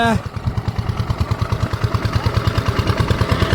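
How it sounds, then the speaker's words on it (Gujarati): A Honda engine powering a farm water pump in a rice field thumps out a loud, rapid and steady putt-putt rhythm close by. "આ હોન્ડાનું એન્જિન છે જે આપણે બાઇકમાં આવીએ એ આ મોટું એક ચાલુ છે"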